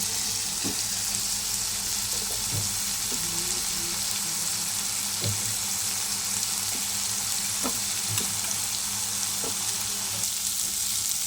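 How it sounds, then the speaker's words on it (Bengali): Spice paste (masala) sizzles steadily in a pan for a jackfruit and prawn curry, a continuous broadband frying hiss with occasional soft stirring taps, fairly loud and close, no talking. "ভালো করে মশলাটা দিয়ে কষিয়ে নেব"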